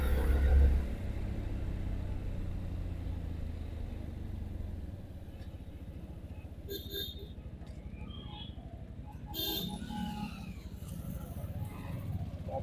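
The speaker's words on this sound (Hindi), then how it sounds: "जब तो भागती है ना तो बहुत ही अच्छे से भागती है, 4-5 हजार आरपीएम तो ये बहुत ही अच्छे से चलती है।" A Yamaha FZ-X motorcycle engine hums steadily while the bike is ridden through the city around 4,000–5,000 rpm, a constant low rumble with wind noise and a few brief higher tones over it.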